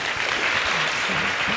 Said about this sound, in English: Please, round of applause for Hoda Afshar.